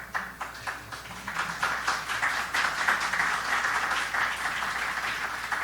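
Steady applause from a conference audience at a book presentation, many hands clapping continuously at moderate volume for several seconds, with no voices standing out.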